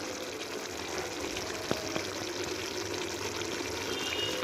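Water pours steadily into a pot of cooking brinjal kadhi, a soft continuous splashing stream with a couple of light clinks, close and moderately quiet.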